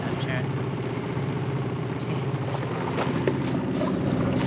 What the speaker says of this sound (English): So it's spinning quite nicely. This is not on spin cycle yet. It's still on rinse cycle.